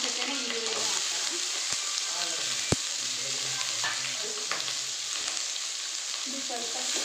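Green chillies and onions fry in a pan for a ridge gourd palya, giving a steady close sizzle throughout with occasional sharp clicks of stirring and no one talking.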